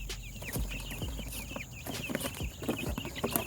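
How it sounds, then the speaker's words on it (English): Several chickens cluck and chatter close by in short, repeated clucks, with a few louder squawks mixed in and a faint breezy outdoor background under them. "I bet that's a hen."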